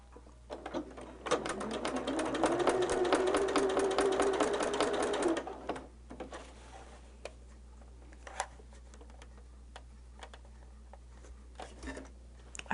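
A sewing machine runs a short test line of stitches on a holiday quilt project, a steady close mechanical chatter for about four seconds that stops abruptly, followed by quiet scattered handling clicks.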